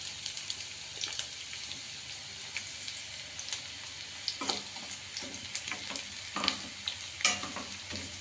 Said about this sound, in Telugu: కొంచెం ఆనియన్స్ బ్రౌన్ కలర్ రావాలి ఫ్రెండ్స్.